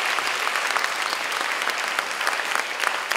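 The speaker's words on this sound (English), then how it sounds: "Let's give them another round of applause, shall we?" Audience at a charity concert giving the live band, pianist and strings a round of applause, dense, steady clapping filling the hall without pause.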